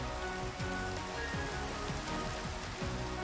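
Steady rain falls in a video game, a dense continuous hiss of drops pattering on surfaces at an even, fairly quiet level with no voices.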